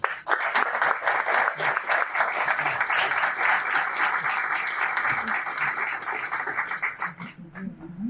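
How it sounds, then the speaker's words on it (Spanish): A conference audience on citizen income welcomes a speaker with loud, sustained applause from many hands, tapering near the end as murmurs and a voice begin to emerge. "Lo recibimos con un fuerte aplauso."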